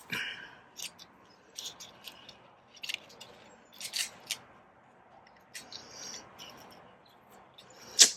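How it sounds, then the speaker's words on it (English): Scissors snip through craft material at a Christmas-themed crafting table, a series of short, close, crisp cuts in irregular bursts with pauses between, ending on one sharper snip. "And I'm going to cut this off."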